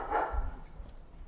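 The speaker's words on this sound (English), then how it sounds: "What's an angry dog?" A single short dog bark, angry in tone, sounds at moderate distance in a horror video game, a brief sharp burst that fades into low background hum.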